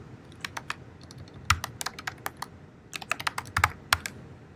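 Login credentials being typed on a computer keyboard: quick, uneven bursts of crisp close key clicks, denser toward the end, alone in a quiet room.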